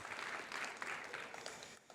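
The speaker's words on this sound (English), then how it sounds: "Round of applause for them." Faint audience applause greets the top five university pitch teams at a startup showcase, a brief, soft wash of scattered clapping heard from a distance.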